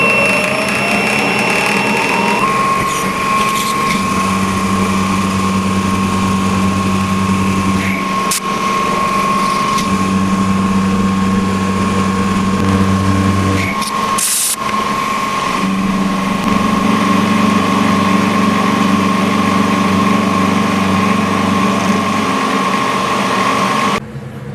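A milling machine cuts a groove with a 4-flute end mill in light passes while making a compact power hacksaw part, a loud steady motor whine with a sustained tone and rougher bursts of cutting noise.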